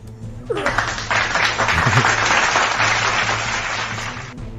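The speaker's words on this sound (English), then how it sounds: "We're clapping for a victory now." A burst of canned applause and light laughter, a dense clapping wash that starts abruptly, holds steady for several seconds and cuts off cleanly, under a faint voice at the start.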